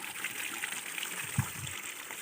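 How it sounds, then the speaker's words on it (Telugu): Spring water trickles and gurgles continuously out of rock behind the Ahobilam Lakshmi Narasimha temple, a close, steady watery wash with a brief low thump partway through. "రాయిలో నుంచి వాటర్ వస్తూ ఉంటాయి"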